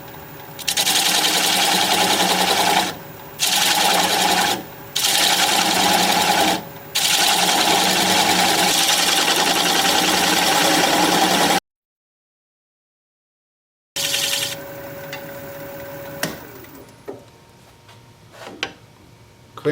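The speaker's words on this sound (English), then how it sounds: "I'm going to take my 3/8 inch standard grind bowl gouge, which I just sharpened up, and we'll begin removing that tenon." A wood lathe spins a winged bowl while a freshly sharpened 3/8 inch standard grind bowl gouge removes the tenon, making a steady, loud, buzzing cut broken by short pauses, then a silence and a quieter stretch with light knocks.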